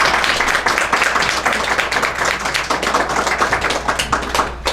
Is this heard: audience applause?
yes